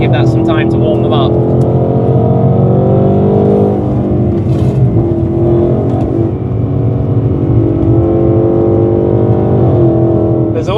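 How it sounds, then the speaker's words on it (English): A supercharged Ford Mustang GTD accelerates on a race track on cold Trofeo RS tyres, its engine loud and close with rising, layered pitch sweeps under ongoing cabin talk. "You feel that extra supercharger power there."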